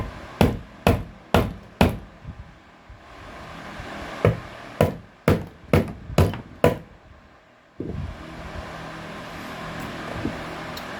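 A small ball peen hammer with a loosening head strikes metal in sharp, close knocks: four quick blows, a pause, then a faster run of seven, with no talking.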